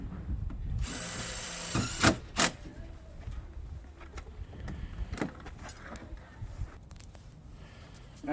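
Power drill driving screws into a vinyl gate, a loud brief whirring burst followed by sharp clicks and scattered handling knocks, close by and otherwise quiet.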